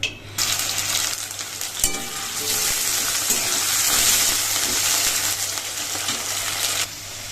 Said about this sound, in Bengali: এই দেখো বন্ধুরা, আলুটা ভাজা হয়ে গেছে